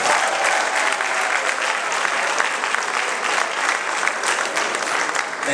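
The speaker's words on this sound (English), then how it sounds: "You guys should clap for yourselves." An audience breaks into sustained applause, a dense continuous patter of many hands clapping at steady loudness for several seconds.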